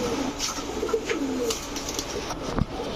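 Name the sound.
pigeons cooing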